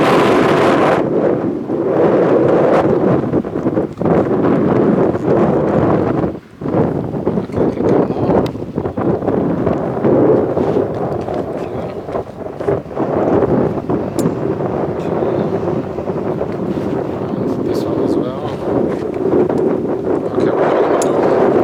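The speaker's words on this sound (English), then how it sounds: "Now the wind is quite strong, so the wind is gonna lift us up quite quickly." Strong wind buffets the microphone while paragliding above a hillside leading down to a beach at a resort in Oman, a loud, continuous rumbling roar that swells and dips briefly with no talking.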